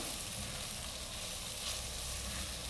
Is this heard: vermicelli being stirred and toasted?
yes